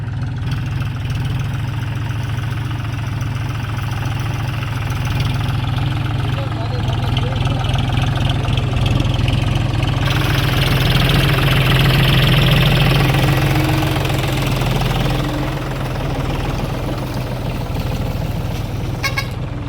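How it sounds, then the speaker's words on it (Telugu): A tractor engine chugs loudly and steadily nearby, its heavy low drone swelling midway as it approaches, with people talking over it throughout. "ట్రాక్టర్ వస్తుంది."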